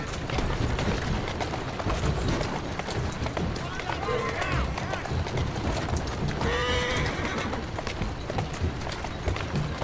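Hoofbeats pound steadily through a busy, dense video game mix from Assassin's Creed Syndicate, with a horse whinnying twice partway through; a voice talks over the whole stretch.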